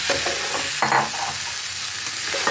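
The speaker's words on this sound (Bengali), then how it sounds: "আমি এখন এই গাঁটিগুলো সব দিয়ে দেবো" Pieces of taro go into a pan of spice paste fried in oil and get stirred, producing a steady sizzle broken by scraping spoon strokes and a few louder clacks.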